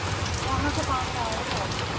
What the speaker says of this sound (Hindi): बारिश इतनी तेज पड़ रही है ना।